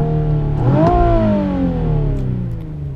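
A 2017 Nissan 370Z engine revs up sharply and then settles back down, loud and close, with no talking over it.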